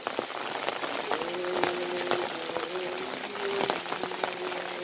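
Heavy rain falls steadily on a chili plant field under a dark, overcast daytime sky: a dense, continuous patter and hiss with no pauses, loud and close throughout.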